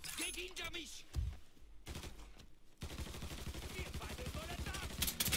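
Gunfire in the video game Mafia 3, rapid bursts of shots crackling in quick rhythm between game sounds and music, with someone talking over parts of the action.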